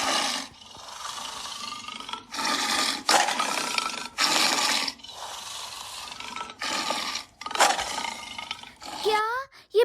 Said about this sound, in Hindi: क्या ये बाघ की आवाज है?